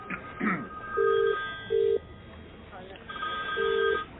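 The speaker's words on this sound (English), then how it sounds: "Oh, it's ringing." A telephone rings in short electronic bursts, three tones spaced about a second apart, with a voice speaking briefly before the rings.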